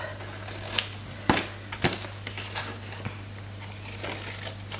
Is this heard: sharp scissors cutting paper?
yes